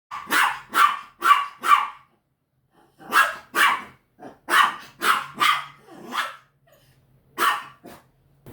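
A female dog barks in sharp bursts of two or three, close and loud, with low growls rumbling between the barks and short silent gaps.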